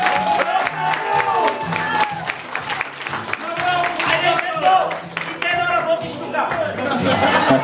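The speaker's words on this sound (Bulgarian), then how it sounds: "Силни аплодисменти!" Wedding guests applauding at a cake cutting, steady dense clapping with laughter and chatter mixed in, people talking over it throughout.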